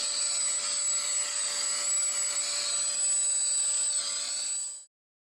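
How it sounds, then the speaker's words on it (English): A household vacuum cleaner runs steadily at close range, cleaning dust from the fan vent of a laser printer, its whining motor and airflow holding constant for about five seconds before cutting off abruptly. "Vacuum out the fan vent. In this case, you can use a normal vacuum."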